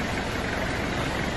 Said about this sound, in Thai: อันนี้รถไถเนี่ย